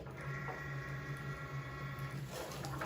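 A Cricut cutting machine runs while it cuts a vinyl design, giving a steady mechanical whir with a faint tonal hum and a few light shifts in pitch, moderately close.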